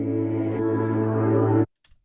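A dense, droning wash of reversed choir reverb with a strange, otherworldly swell that cuts off abruptly, followed by a faint brief flutter.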